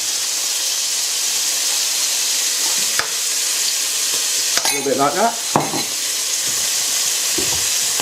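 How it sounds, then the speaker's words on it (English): Beef with flour stirred into it sizzles and hisses steadily in a hot pan, with brief scraping stirs partway through and a man's short remark over the frying. "we've got our beef in there, and we're just going to put some flour in like that"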